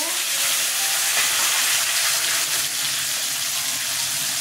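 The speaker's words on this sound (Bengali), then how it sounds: "এবার আলুগুলো ছেড়ে দিচ্ছি, ভেজে নেব।" Potatoes fry in hot oil in a pan, giving a loud, even, close-up hiss and sizzle that continues without a break.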